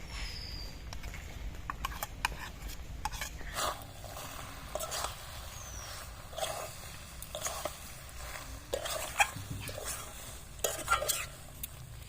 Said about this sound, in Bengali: সস রেডি হয়ে গেছে এখন পাস্তাগুলো দিয়ে দেবো ভেজে রাখা সবজিগুলো দিয়ে দেবো